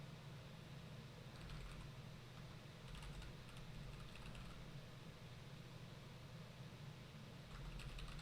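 Faint bursts of clicking on a computer keyboard come in short flurries over a steady low hum during software development work.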